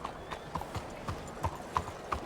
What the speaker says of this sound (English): This is going to be quite a horse ride.